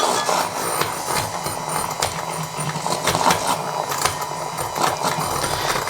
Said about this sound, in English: I'm just going to use my hand whisk.